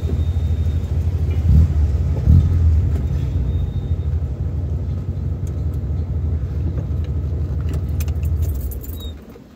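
A 1979 Alfa Romeo Alfetta 2.0 on an evening drive gives a steady, low engine drone and road rumble from inside the car, with a couple of louder bumps early on before the sound fades at the end.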